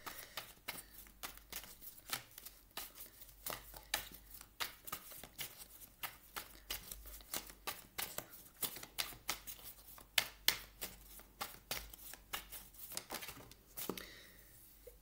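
Tarot cards are shuffled for a reading, a steady run of quiet, crisp riffling flicks and taps repeating for several seconds, close and soft, with no talking.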